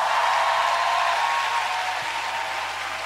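An audience applauding two singers about to perform: a steady, even wash of clapping throughout, moderately loud and continuous, without voices over it.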